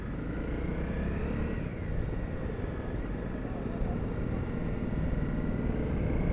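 A motorcycle rides along at low speed, giving a steady engine drone mixed with broadband wind and road rumble. A slight pitch rise comes early, and the sound otherwise stays constant with no talk.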